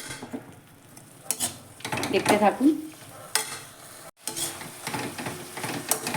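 Banana flower curry with fried potato and peanuts being stirred and sautéed in a pan, soft sizzling under scraping spatula strokes and clinks, with a brief spoken line.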